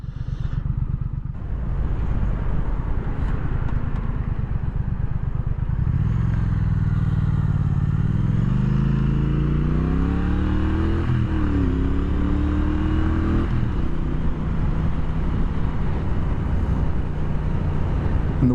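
A 2017 Triumph Thruxton R motorcycle ridden on the road, its engine droning loud and close as it accelerates through the gears, pitch climbing and dropping at each shift under constant wind rush.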